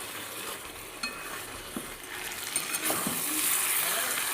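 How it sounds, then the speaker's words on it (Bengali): Mutton being fried and stirred with meat masala, garam masala and garlic for a Bengali-style kosha curry: a low, even sizzle with scattered spoon taps and clinks that grows louder toward the end. "ভালো করে কষে নেব।"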